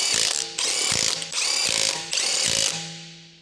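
Electric impact wrench with a long 19 mm socket tightening the front wheel lug nuts on a Honda CR-V, four loud, close bursts of rapid hammering, each lasting about half a second with short pauses between.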